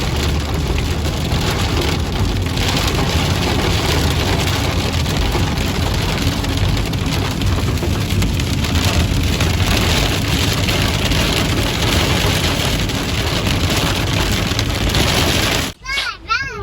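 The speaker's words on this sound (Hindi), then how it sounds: "इतनी तेज़ बारिश हो रही है" Heavy rain pours down during unpredictable Calgary weather, a loud, dense, steady hiss of downpour filling nearly the whole stretch before cutting off abruptly near the end.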